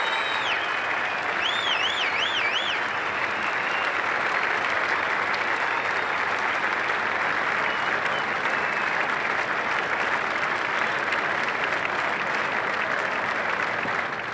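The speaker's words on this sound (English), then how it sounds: "And gets a rousing reception, as he should, from the Adelaide crowd." A large cricket crowd at Adelaide Oval applauds Steve Waugh in a dense, steady roar of clapping that holds for the whole stretch, with faint whistles rising above it early on.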